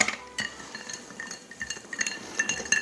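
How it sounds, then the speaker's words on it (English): A spoon stirring a bourbon cocktail over one big chunk of ice in a glass, giving repeated light clinks and taps at an irregular, unhurried pace, close and fairly quiet with no talking. "I'm just going to give this a gentle stir just to incorporate the ingredients"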